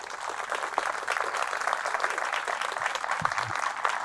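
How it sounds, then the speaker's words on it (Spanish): A church congregation applauding at a Catholic service, steady massed clapping at moderate distance, fairly quiet and continuous, with a brief low knock near the end. "Fuertes aplausos a Jesús"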